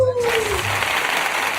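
A small crowd at a live hip-hop performance claps and cheers, a dense burst of applause rising right after a falling tone, with voices mixed in.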